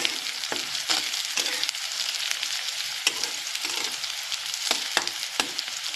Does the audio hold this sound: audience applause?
no